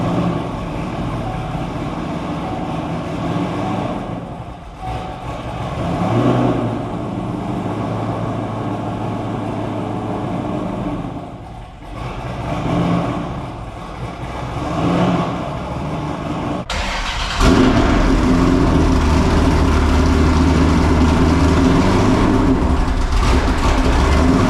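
A 2,306-horsepower V8 car engine, started after a period of storage, rumbles steadily and loud at close range, swelling and dipping with the throttle before it jumps to a harder, fuller roar near the end.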